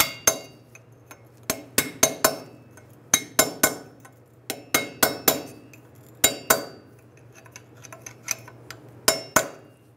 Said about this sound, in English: take this cap, line it up, and just tap it on